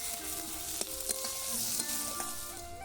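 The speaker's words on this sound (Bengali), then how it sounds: "পেঁয়াজটা দিয়ে নিলাম তেলে" Onion fries in oil in a village kitchen, a close, soft, steady sizzle with a few quick clinks and scrapes of stirring over a short stretch, with no voices.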